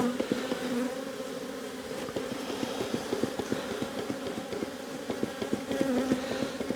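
Honeybees hum in a dense, steady drone around an opened hive during a box-swapping inspection, close and continuous, with no voices.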